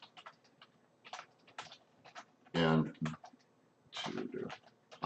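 Computer keyboard typing during a live stream, with bursts of quick key clicks and heavier clustered presses, mixed with someone speaking briefly.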